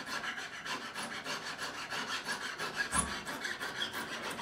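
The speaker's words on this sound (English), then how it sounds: "I'll just take this one, and I will just skim across the edge" Swiss number 4 cut file skimming the edge of stainless steel guitar frets, a close, rhythmic rasping scrape in short rapid strokes, steady and alone.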